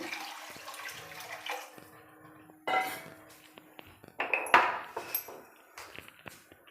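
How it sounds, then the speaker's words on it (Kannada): Water is poured into a cooking pot while making jeera bajji rasam, a few quiet splashing bursts mixed with light clinks of utensils against the pot, close and otherwise quiet. "ಈಗ ಸ್ವಲ್ಪ ನೀರು ಸೇರಿಸ್ಕೊಳ್ತಾ ಇದ್ದೀನಿ"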